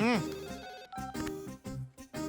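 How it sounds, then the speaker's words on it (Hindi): An incoming call on a phone in a Hindi-dubbed film scene rings as a melodic ringtone of repeating bright tones in steady bursts, with a voice briefly heard at the start. "देखो, उसका नाम लिया और उसका फोन आ गया"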